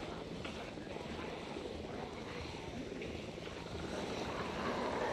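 Helicopter passing overhead during a helicopter event in the video game Project Zomboid, a dense steady rotor roar that grows louder toward the end, with faint talk underneath.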